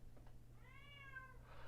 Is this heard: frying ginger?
no